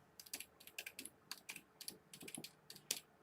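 Rapid typing on a computer keyboard, a quick irregular run of light clicking keystrokes, close but quiet, with no voices.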